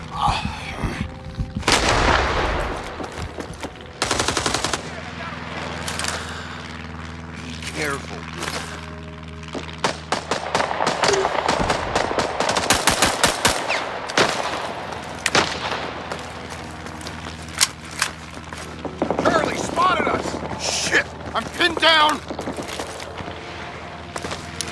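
Rising Storm 2: Vietnam battle with frequent sharp rifle shots, rapid machine-gun bursts and distant booms scattered throughout, loud and varied, with people talking over the combat.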